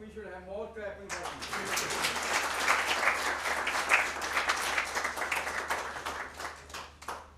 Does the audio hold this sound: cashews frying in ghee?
no